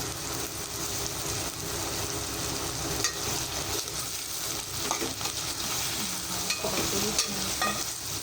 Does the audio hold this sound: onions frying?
yes